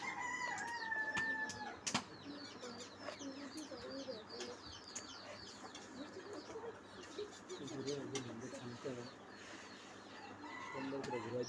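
Chickens cluck steadily at close range with scattered bird chirps around them, layered over a busy village background and a few sharp knocks.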